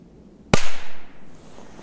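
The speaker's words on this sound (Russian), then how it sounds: "Есть взрыв, вот такие взрывы." A single sharp Korsar 1 firecracker bang, set off lying flat, loud and close, with a brief echoing tail fading out after it.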